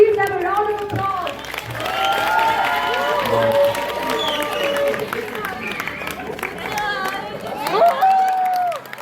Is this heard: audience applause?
yes